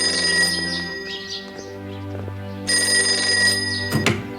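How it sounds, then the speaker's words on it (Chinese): A telephone bell rings in two long, bright bursts separated by a short pause, close and clear in a quiet room, followed by a brief clatter. "我去接下电话啊"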